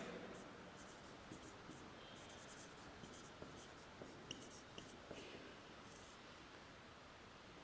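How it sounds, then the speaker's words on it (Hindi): Steady scratchy writing on a board or paper during a history lecture, a faint continuous scribble with small taps, heard alone under low background hiss. "तो एक बार लिख लेते हैं"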